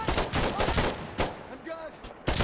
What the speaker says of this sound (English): Artillery coming in.